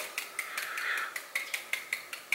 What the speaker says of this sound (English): grab a fork and then just poke little holes on it all around